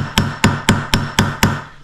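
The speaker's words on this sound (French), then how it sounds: "j'ai pris le petit marteau, j'ai tapé 4 fois" A small hammer crimping the handle onto a Capucin folding knife kit: six sharp metallic taps in an even rhythm, close and loud, each ringing briefly before the next, with no talking.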